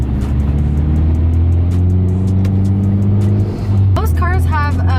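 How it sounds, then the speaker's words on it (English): A manual car's engine hums steadily in traffic while the driver works the clutch and shifts gears, a low continuous drone with a brief dip before picking up again, and a voice speaks over it near the end. "But they're going again, so I'm gonna push it back into second gear."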